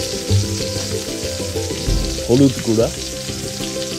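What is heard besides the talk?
spice pastes frying in a pan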